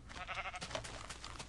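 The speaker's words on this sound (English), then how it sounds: "In addition to our standard white sheep like this, we also now have black sheep and gray sheep." Sheep bleating in the Minecraft video game, with white, black and gray sheep nearby; a steady run of close, fairly loud wavering bleats with no talk.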